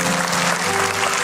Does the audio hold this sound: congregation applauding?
yes